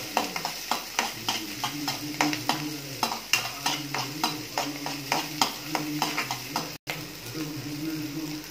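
Garlic and ginger fry in a pan while a spoon stirs them, giving a regular series of close scraping strokes over a soft continuous sizzle, with no speech.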